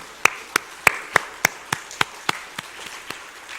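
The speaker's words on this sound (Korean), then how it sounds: "하나님 영광과 격려의 박수를 큰 소리로 치겠습니다." A church congregation at an early-morning special prayer service claps in slow unison, about a dozen sharp, evenly spaced claps that are crisp at first and then fade in loudness.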